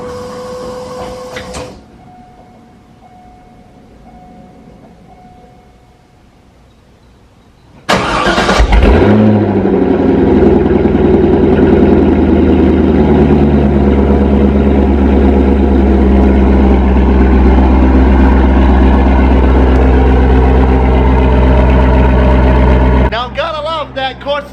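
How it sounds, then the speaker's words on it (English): A supercharged Corvette with a Corsa Extreme cat-back exhaust cold-starts: a brief whir and click, a quiet pause, then a sudden loud roar that settles into a heavy, steady high idle that keeps droning until near the end. "cold start."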